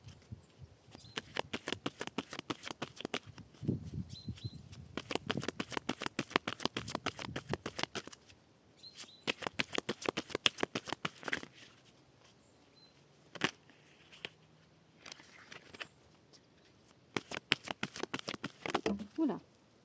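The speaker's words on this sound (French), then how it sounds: "on va faire déjà une petite coupe avec cet oracle." An oracle card deck being shuffled and cut in quiet, close bursts of rapid crisp riffling clicks separated by short pauses, soft and intimate with no voice.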